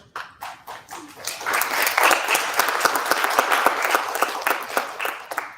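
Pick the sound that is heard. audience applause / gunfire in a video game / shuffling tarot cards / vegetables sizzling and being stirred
audience applause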